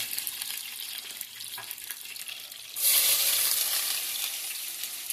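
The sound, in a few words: onions frying in hot oil with curry leaves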